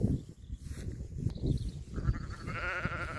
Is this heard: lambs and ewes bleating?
yes